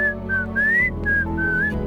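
A person whistles a short melodic tune outdoors, the clear notes rising and falling over a steady background hum.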